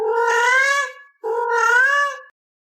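Cat meowing twice in long, drawn-out, talkative cries, close and loud with a short pause between, then silence.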